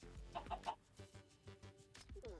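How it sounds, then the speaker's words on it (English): Chickens clucking in the video game Minecraft, a run of short clucks and chirps at moderate level, fairly close and heard alone without talk. "There's a chicken."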